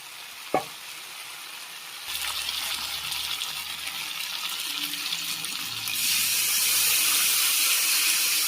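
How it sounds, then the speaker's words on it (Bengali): Water poured into a sautéed potato and pointed gourd curry in a pan sets off a steady hiss and sizzle that swells partway through and grows louder near the end, with no talking. "এবার পরিমাণ মতন জল দিয়ে দেবো"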